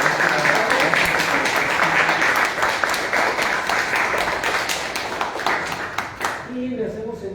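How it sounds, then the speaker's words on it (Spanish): Seminar attendees at UACM Casa Libertad give the speaker a dense, steady round of applause that runs for several seconds, fades toward the end, and gives way to a voice. "Le pediré aquí a los compañeros que nos acompañen pues un aplauso para"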